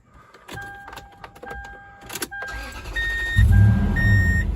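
A Toyota 4Runner engine cranks and catches after a run of warning beeps and clicks, settling into a loud, steady low idle close by.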